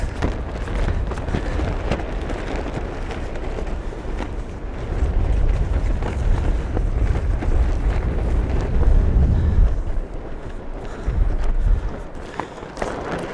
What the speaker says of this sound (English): it wasn't forecast this strong wind